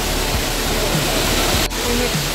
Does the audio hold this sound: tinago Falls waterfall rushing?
yes